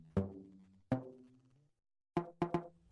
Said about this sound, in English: So I'm going to layer all three of them on top of each other so they sound like this.